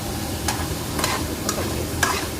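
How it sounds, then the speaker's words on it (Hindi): Vegetables being stirred into masala sizzling in hot oil, a constant close frying hiss broken by four sharp scrapes of a spoon against the pan, with no talking. "अभी इसके अंदर सब्जियाँ डाल दूँगी और इनको मिक्स कर दूँगी।"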